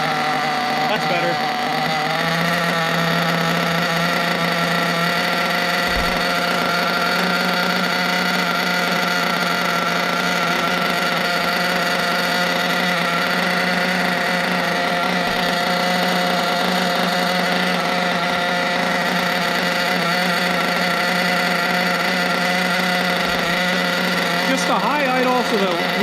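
An RC nitro engine idling during its break-in, a loud steady high buzzing drone with a constant tone that runs without letup, with a voice faintly audible beneath it.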